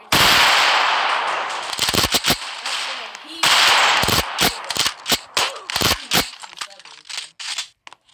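Rapid bursts of gunfire from a sniper rifle in the Roblox superhero tycoon game, loud and dense with clipped sharp reports and brief gaps, filling the clip with little quiet between shots.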